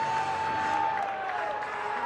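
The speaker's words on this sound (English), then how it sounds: "that gets the crowd going at Mizzou Softball Stadium" A softball crowd at Mizzou Softball Stadium cheers and applauds after a home run, a steady roar of mixed voices and claps heard at a distance, with a commentator talking over it.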